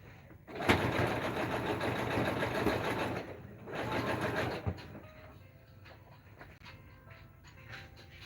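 A sewing machine runs a zigzag stitch on denim jeans in two close, buzzing bursts of a few seconds each, separated by a short pause, then leaves only quiet handling sounds.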